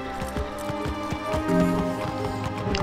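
Rhythmic hoofbeats of a galloping horse mount in the online game Wizard101, steady clip-clop strides running throughout at moderate volume with some game music tones behind.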